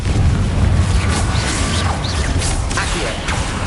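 A Confringo spell explosion in the Hogwarts Legacy video game, a loud, dense blast with crashing, whooshing mechanical layers sustained for several seconds.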